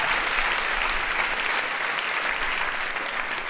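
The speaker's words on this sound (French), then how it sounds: "On peut applaudir cette victoire féministe incroyable." An audience at a French stand-up comedy show breaks into sustained applause, steady and fairly close, keeping an even level with no speech over it.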